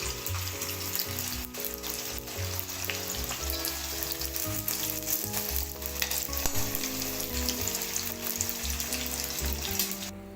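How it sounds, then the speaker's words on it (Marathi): Brinjal (eggplant) slices frying in hot oil, crackling in a dense, steady sizzle with occasional spattering pops and a faint low hum underneath. The sound is close and continuous throughout, with no voices. "आता आपण वांगेही आपण तळून घेऊया"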